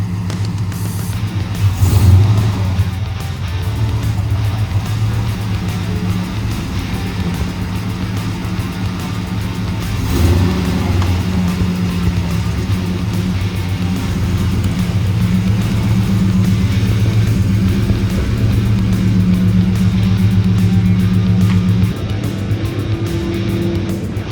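A 1970 Dodge Coronet with a swapped 6.1 HEMI driving on its first run, a deep steady engine rumble from inside the car with a brief rev early and another surge midway, no talking.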